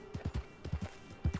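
Horse hooves clip-clopping in the video game Red Dead Redemption 2, several close, loud, uneven clusters of hoofbeats in a quick walking rhythm with no talk over them.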